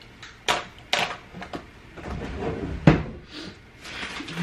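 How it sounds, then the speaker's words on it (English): Drawers opened and shut several times in a room, sharp wooden knocks and sliding scrapes spaced irregularly, close by and without talk. "I'm like opening drawers expecting there to be stuff."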